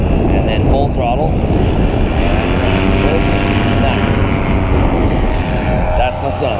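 A paramotor engine runs at full throttle for a powered paraglider flown by a 13-year-old, a loud, steady propeller drone throughout with a voice partly heard under it.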